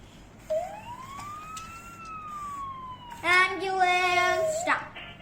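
A toy robot plays a synthetic ambulance siren, starting with a single rising and falling electronic wail and then switching to a louder, buzzier warbling tone, with a voice faintly in the background.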